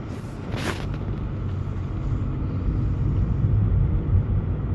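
A VW Polo Vento drives through the city at night in cool weather, with a steady low engine and road rumble and a brief whoosh near the start.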